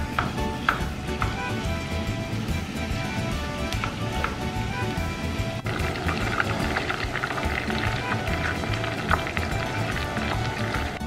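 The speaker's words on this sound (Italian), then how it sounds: "Mentre la cipolla sta soffriggendo, noi aggiungiamo l'alloro. Adesso aggiungiamo la carne macinata." Onion and minced meat sizzling in a pan, a steady crackling fry with scattered pops and light stirring clatter, close and continuous with faint voice in the background.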